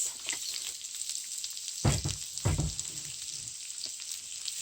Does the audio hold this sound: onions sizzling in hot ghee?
yes